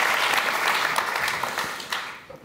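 An audience gives a warm round of applause to welcome a guest at a book talk, brisk close clapping that stays full and then tapers off toward the end.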